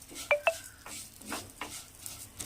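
Vermicelli roasting in ghee in a pan is stirred with a spoon, giving faint scraping strokes and two brief metallic clinks against the pan over a soft sizzle.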